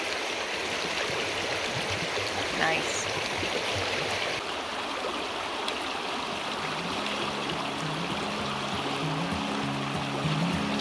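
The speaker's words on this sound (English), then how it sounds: "The water feels really good on my feet." Shallow stream water flows steadily around bare feet on a cool upland spot in the Black Hills, a continuous close rush and trickle, with a brief spoken word and soft music rising later.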